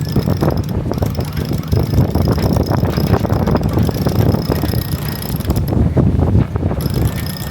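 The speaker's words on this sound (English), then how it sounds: "I'm using the electric winch here to take out the sail" Electric winch on a Hallberg-Rassy 34 sailboat at the shipyard in Ellös, unfurling the sail from the mast furler with a loud, close, continuous mechanical grind and ratcheting clatter, with wind noise behind.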